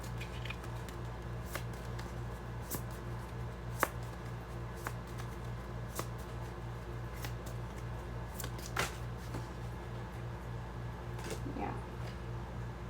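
Tarot cards are shuffled and pulled by hand, giving soft sporadic flicks and taps over a low steady hum, with a faint voice in the background.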